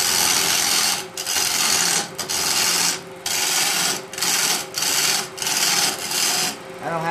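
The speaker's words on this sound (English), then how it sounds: "I like to use a chisel, real sharpened." A sharpened chisel cuts a red oak walking staff spinning on a wood lathe, giving a loud, steady rasping whir broken by several brief pauses as the tool lifts off.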